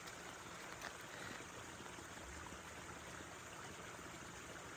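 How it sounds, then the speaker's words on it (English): A waterfall gives a steady, faint wash of rushing water, an even broadband roar that holds without a break for about five seconds. "I filmed it wide so you would get a listen of that waterfall"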